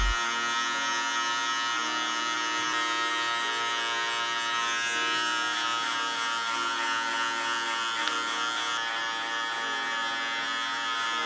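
Electric hair clippers with a number 1 guard and the lever fully open buzz steadily while cutting hair for a mid fade, a close continuous hum with slight shifts in pitch as they move.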